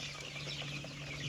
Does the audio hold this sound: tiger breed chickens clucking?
yes